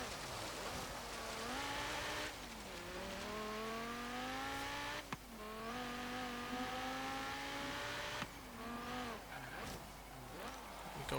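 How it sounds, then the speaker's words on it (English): A 2006 Audi RS 4 in Forza Horizon 3 autocross accelerates hard, its engine note climbing through repeated gear changes, with brief tire noise; loud and close, steady throughout. "Acceleration really is rather good on this car."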